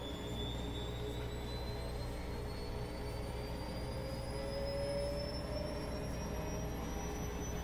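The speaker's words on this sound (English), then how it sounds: "The spin cycle." A Bosch washing machine under diagnostic testing for a suspected wiring harness or NTC fault runs its spin cycle, giving a loud, steady motor whine that climbs gradually in pitch as the drum speeds up, with no talk.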